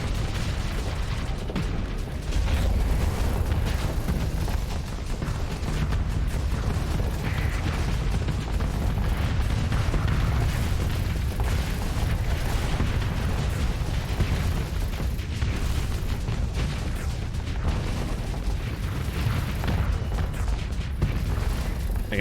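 Torpedo explosions in the space combat game Starsector, a dense continuous rumble of booms and blasts rolling without pause for over twenty seconds, loud and heavy in the low end.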